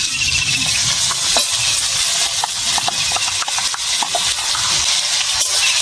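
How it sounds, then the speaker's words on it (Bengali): Ginger garlic paste sizzles and fries in hot oil in a pan, a continuous close hiss with scattered scraping taps as a spoon stirs it around. "ভালো করে নেড়ে চেড়ে কষিয়ে নেব"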